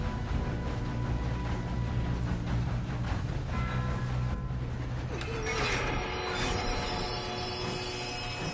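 A train rolls along in the Red Dead Redemption 2 game, a steady mechanical clatter and rumble with metallic squeals and ratcheting clanks building toward the end; no talking.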